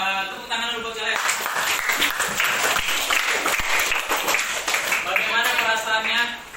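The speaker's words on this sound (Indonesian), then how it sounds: "Oke, tepuk tangan dulu buat kalian." Students in a classroom give a round of applause, a lively burst of clapping that swells and holds, with voices talking over it at the start and again as it dies down.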